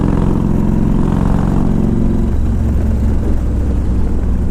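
A 2000 Harley-Davidson Ultra Classic with 78,000 miles cruising down the road, its engine droning steadily and loudly under heavy wind rush, with no break in the sound.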